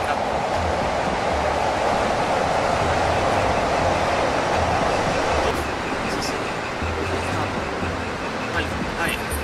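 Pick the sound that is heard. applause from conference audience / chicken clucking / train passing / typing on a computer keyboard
train passing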